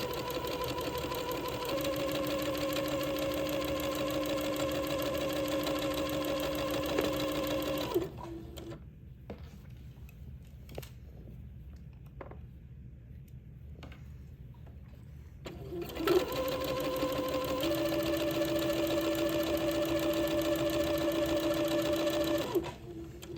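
A sewing machine stitches the seams of an old-fashioned baby gown in two long, steady whirring runs with a quiet pause between them, close and even in speed.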